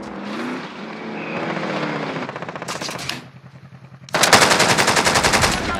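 Rapid automatic gunfire in Call of Duty Warzone, loud, close and sustained. The bursts come in long rattling strings, pause briefly, then return as an even harsher, denser barrage.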